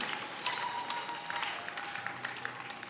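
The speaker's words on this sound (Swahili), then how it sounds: "Please stand up, we'll give them a big clap." An audience claps for dignitaries being welcomed at a parish missionary anniversary gathering in Kifaru, the steady applause spreading evenly across the room at a moderate distance.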